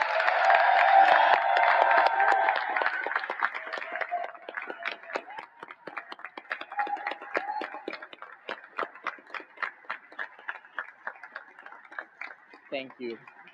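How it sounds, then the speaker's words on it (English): Audience applause at a New School of Architecture and Design ceremony for its president, Dr. Chao-Ling Su: dense crowd clapping and cheering at first, thinning over several seconds into scattered individual claps. "please rise and give your loudest applause for Dr. Chao-Ling Su"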